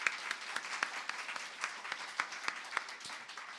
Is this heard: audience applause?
yes